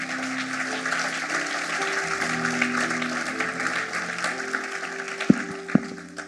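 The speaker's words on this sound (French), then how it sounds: "Acclame Jésus" A church congregation claps and cheers for Jesus, a dense steady wash of applause with sustained organ or keyboard chords underneath and a couple of sharp thumps toward the end.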